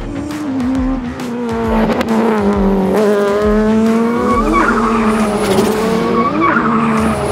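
Go-kart race cars on a racetrack, loud buzzing engines with rising and falling pitch as tires screech and skid repeatedly through the turns, continuous and close.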